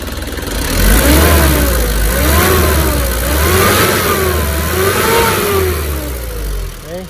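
A Nissan Urvan van's engine and radiator fan rev up and down in slow, wavering swells, a steady mid-range mechanical drone close by with no talking.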